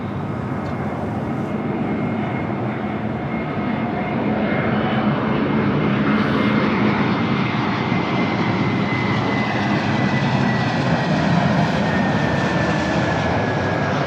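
A United Airlines Boeing 787-10 Dreamliner jet airliner arriving at Los Angeles LAX, a loud, steady broadband engine roar that holds throughout with a slowly falling whine, heard close with no talk.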